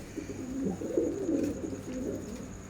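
Pigeons kept in a village coop give low throaty coos that come and go over a steady background hum, moderately close, with no voices.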